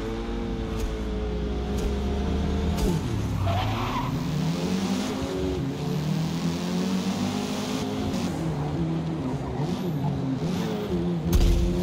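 Race car engine in a front-wheel-drive racing video game, roaring and shifting pitch continuously, with repeated loud tire skids and squeals throughout.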